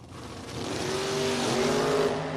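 Drag race cars launching at a Mutt and Jeff Fall Brawl event, a Corvette in the right lane, engines swelling into a loud, steady roar with rising tonal whine.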